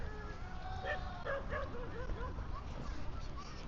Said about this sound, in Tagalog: Nakakatakot tong mga aso na to.